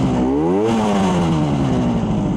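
A 1967 Yamaha YR1 motorcycle engine idles while warming up, loud and close. It blips up to a quick rev, then settles into a steady buzzing, slightly uneven idle.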